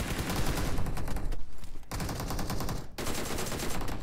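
A DP-28 light machine gun fires in BGMI, the mobile battle royale game, with rapid, loud bursts of gunfire filling the whole clip and two brief pauses between them.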